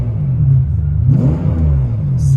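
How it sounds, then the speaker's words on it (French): The V12 engine of a Ferrari 550 Maranello rumbling deep and loud at close range, idling with a smooth low drone and a slight rise in revs midway. "vous avez immédiatement la sonorité de ce V12 qui apparaît dans les oreilles"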